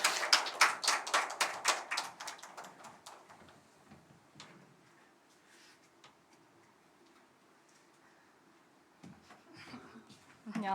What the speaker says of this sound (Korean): 박수로 초대하겠습니다